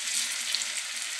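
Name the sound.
food frying in hot oil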